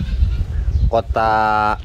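Goats bleat loudly in a pen in Medina, one long, wavering close cry following a shorter call, with background talk and crowd noise beneath.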